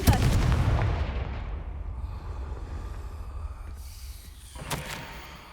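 Fire spell blast cast in Hogwarts Legacy: a heavy booming burst up front that rumbles and fades over several seconds, with a softer crackling flare near the end, no voices.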